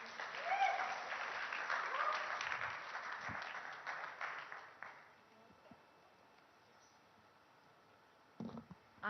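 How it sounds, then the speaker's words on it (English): An audience at the India Today Conclave stage event breaks into loud, full applause for about five seconds. It then thins out into a quieter room with scattered claps and a few clicks. "Can we have a round of applause, please?"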